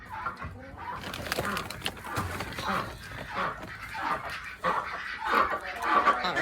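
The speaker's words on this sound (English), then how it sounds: "We got our ducks, our roosters, the biggest chicken of them all, Corey Miller." Chickens and roosters on a small backyard farm with ducks around, clucking and crowing in scattered bursts. There may also be a dog barking, and the birds grow louder toward the end.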